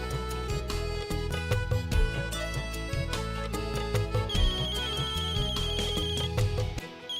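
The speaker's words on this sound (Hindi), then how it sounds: "फोन बज गया गलत टाइम" A mobile phone plays a loud, melodic musical ringtone in a Hindi television drama scene. The tune repeats steadily with a bright rhythmic beat for several seconds.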